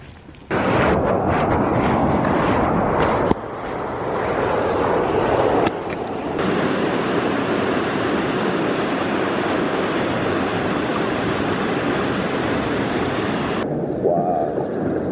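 Steady roar of ocean surf at Bolinas washing in continuously, broad and loud, with a few brief bumps early on before the rushing noise settles into a constant wash.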